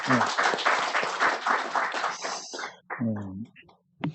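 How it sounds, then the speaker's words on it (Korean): A congregation claps in thanks during a Korean Sunday evening church service. Dense applause fills the first two and a half seconds, then fades, and someone speaks over the tail end. "박수로 감사합니다"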